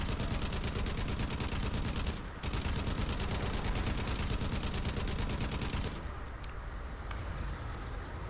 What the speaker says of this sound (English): These guns overheat kind of quick. But I kind of hold down the trigger for a long time.